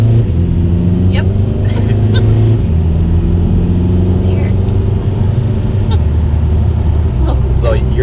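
A VW TDI car fitted with a big hybrid turbo and stage 3 tune pulls hard from inside the cabin, the engine drone rising and shifting steadily throughout, with people talking over it.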